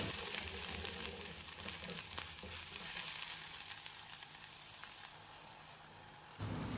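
Ginger garlic paste sautéing in hot oil for a Chettinad mushroom gravy, a faint continuous crackling sizzle with scattered small pops, no voices.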